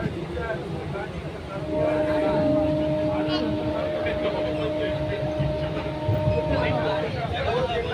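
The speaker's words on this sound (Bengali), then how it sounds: "এখন ট্রেনে তো এখন আমরা যাচ্ছি" Riding inside a moving train on the way to Dakshineswar temple, a steady rumble of wheels and carriage noise fills the space as people talk over it, with a long horn-like tone sounding for several seconds.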